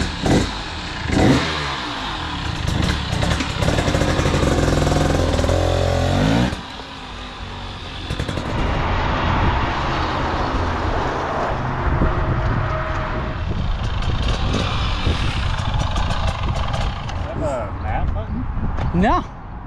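A 2024 KTM 300XC-W dirt bike engine revs loudly and close, drops abruptly to a rough idle, then holds a steady running drone, with people talking over it.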